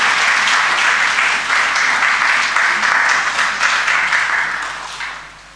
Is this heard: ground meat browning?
no